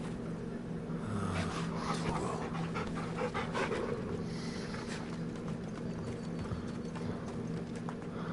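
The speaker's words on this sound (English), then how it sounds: "let's pet the dog" Steady rapid panting from a dog being petted in the Final Fantasy XVI video game, heard over continuous clip-clopping hooves and busy background ambience.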